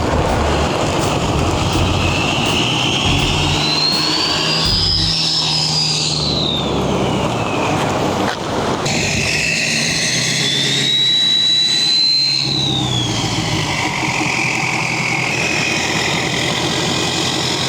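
A tuned 725HP 6.7L Powerstroke diesel truck drives on a highway through Alabama and Florida with a loud, constant engine and road roar. A high whine rises and falls twice over the steady drone.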